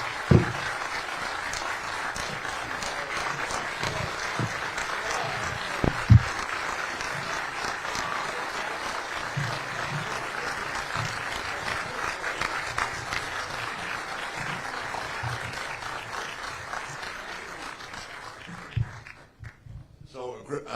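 A crowd gives Misty a long, steady round of applause during a live stream, the clapping sustained for about twenty seconds with a few sharp knocks before it fades out at the end.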